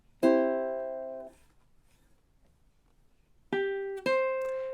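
Measure 28 of the Jamaican folk song Day-O (The Banana Boat Song) on ukulele: a sustained plucked chord, a pause, then two quick plucked notes ringing clearly, with no voice.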